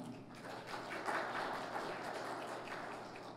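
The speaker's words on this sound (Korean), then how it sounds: "원인식 박사님께 큰 박수 부탁드리겠습니다" Applause rises from a conference audience welcoming an Incheon International Airport speaker at a robot industry event, a soft, steady wash of clapping heard from a distance throughout.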